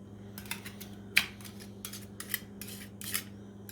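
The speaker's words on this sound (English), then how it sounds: "I'm going to take a whisk" Cornbread batter whisked in a bowl to break up lumps, a quick series of short, crisp bursts of whisking with brief pauses, close and fairly quiet, with a faint steady hum underneath.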